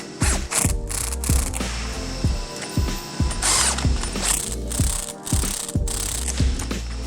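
A ratchet cranks spring compressors on a coilover strut for a Chevy Cruze, giving repeated close metallic clicking strokes in a steady rhythm with mechanical clanks.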